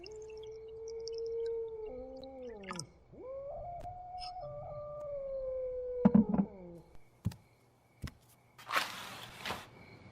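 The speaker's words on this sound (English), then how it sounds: "Helena, it's that dog again." A dog howls at night, long wavering howls rising and falling in pitch, fairly close and clear, followed by a few thumps and a short burst of rustling noise.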